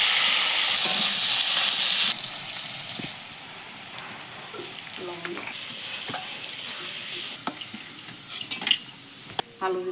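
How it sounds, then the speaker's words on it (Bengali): Bitter gourd fries in oil in a pan, a loud hissing sizzle at first that softens, broken by stirring scrapes and clinks of utensils against the pan, with no speech. "না, উচ্ছেগুলো আগে ভাজবো।"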